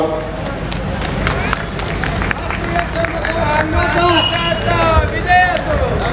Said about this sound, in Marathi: टाळ्या वाजवून स्वागत करा